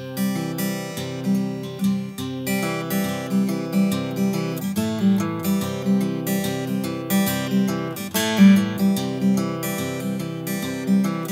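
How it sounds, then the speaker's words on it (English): Carbon fiber acoustic guitar recorded raw through an Audio-Technica AT2035 microphone, a steady strummed chord pattern ringing out close and clear with a regular rhythm, no voices. "what you're hearing is just the raw guitar"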